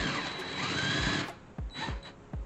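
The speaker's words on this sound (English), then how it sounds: "now we have our 1/2-inch hole drilled in the lid right here" A power drill with a spade bit bores a 1/2-inch hole in a plastic fermenter lid, whining steadily for about a second, then giving several short, close bursts as the bit breaks through.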